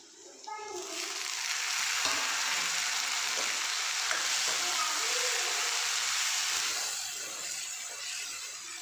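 Chopped tomatoes hitting browned onion in a hot pan, setting off a loud, steady sizzle and frying hiss that carries on for several seconds before easing slightly.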